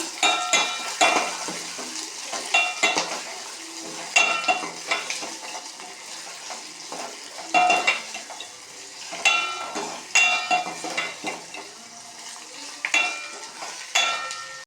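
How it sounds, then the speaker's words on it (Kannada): Onions frying in a pan for a quick buttermilk sambar, with a steady low sizzle broken by repeated sharp clatters of a spoon scraping and stirring against the metal, close and alone. "ಈರುಳ್ಳಿ ಹಾಕಿ ಚೆನ್ನಾಗಿ ಫ್ರೈ ಮಾಡಬೇಕು."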